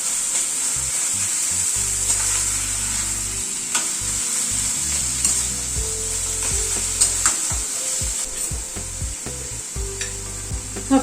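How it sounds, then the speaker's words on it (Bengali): Cabbage paste frying hard in oil with spices, a steady close sizzle with repeated scraping and stirring knocks against the pan throughout, no voices. "বাঁধাকপি পেস্টটা দিয়ে এবার ভালো করে তেলের সাথে মশলার সাথে কষিয়ে নেব"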